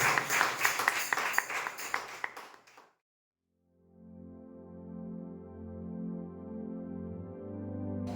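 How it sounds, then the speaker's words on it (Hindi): A Sunday church congregation claps together in a loud, dense burst for about three seconds, then stops abruptly before soft sustained keyboard tones take over. "आइए एक जोरदार ताली केवल यीशु मसीह के लिए।"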